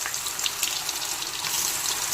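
Soya balls hiss and sizzle as they drop into a shallow pan of hot oil, a steady, fairly soft frying crackle that runs without pause and has no voices over it.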